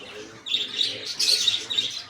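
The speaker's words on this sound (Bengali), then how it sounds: "এখানে অনেক অনেক সুন্দর সুন্দর বাজরিগা আছে।" Pet cage budgerigars chirping in a bird shop, bright rapid twittering in bursts that overlap one another, fairly close, with faint background murmur.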